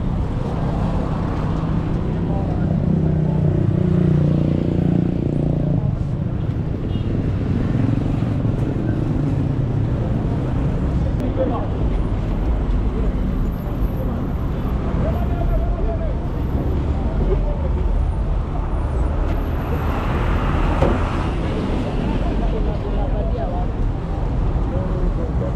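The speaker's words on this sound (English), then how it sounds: "Vehicles heading to Nairobi CBD." Road traffic of vehicles heading toward Nairobi CBD forms a continuous, loud rumble of engines and passing cars, with people talking over it throughout.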